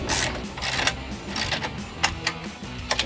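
A socket wrench ratchets bolts onto a Barricade external winch plate on a Jeep Wrangler JL factory front bumper, giving close, sharp clicking bursts in irregular runs between short pauses.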